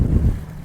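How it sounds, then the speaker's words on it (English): Strong wind buffets a boat out on a lake during a walleye fishing trip, a loud low rumbling roar that stays steady and close with no talking. "Wind is just cranking"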